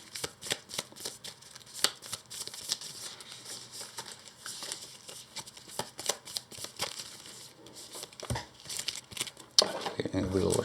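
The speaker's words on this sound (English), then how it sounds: "Okay, we'll shuffle this." A deck of cards for a solo run of the Earthborne Rangers board game is shuffled by hand, with repeated quick riffling bursts and flicks, close and crisp, ending with a denser rustle.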